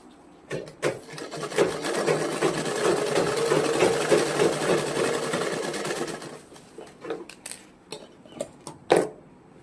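Sewing machine running a tacking stitch along a blouse lining, a steady continuous whir for several seconds, framed by short bursts and handling knocks before and after.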